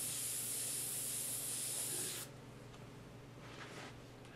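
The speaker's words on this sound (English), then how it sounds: "So I sprayed them on" An aerosol spray paint can hisses in one steady, close burst for about two seconds, then cuts off, leaving a low background hum.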